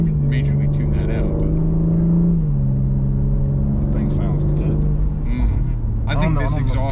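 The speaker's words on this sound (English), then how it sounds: "I think this exhaust note sounds a little bit better than last" BMW G82 M4 Competition exhaust droning steadily from inside the cabin, a low continuous engine note that swells and shifts pitch as the car moves, with people talking over it throughout.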